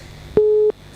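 A single steady telephone busy tone on a radio call-in line sounds loud and clean for about a third of a second, then cuts off.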